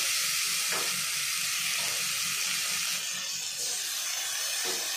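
Fish pieces tossed with coriander powder and spices go into fried onions in a pan over low heat, giving a steady hiss of sizzling oil with a few soft clinks and stirring sounds throughout.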